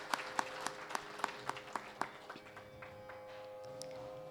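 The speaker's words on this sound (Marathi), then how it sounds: "आपण आजच्या या पाहुण्यांचं जोरदार टाळ्या वाजवून स्वागत करूया." An audience at a Shri Ram birth festival kirtan gathering claps in a burst of sharp hand claps that thin out into scattered applause and fade into room hum.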